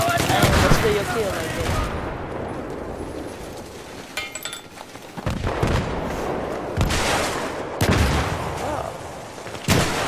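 Gunfire in the video game Battlefield 3 during a team deathmatch on Grand Bazaar, scattered bursts and single shots near and far, with a quieter stretch in the middle and someone speaking briefly.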